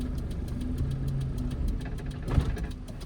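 A car engine hums low and steady while a learner driver uses light accelerator during a U-turn. The tone rises briefly near the end.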